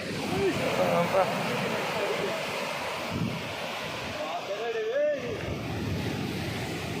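Waves wash and roar steadily along the shore of Marina Beach, Chennai, with wind buffeting and a person speaking briefly over the surf.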